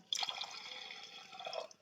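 Water pours into a pressure cooker of stirred lentils (dal) in a short, steady splashing stream that lasts about a second and a half and then tapers off, close and fairly soft, with no voices.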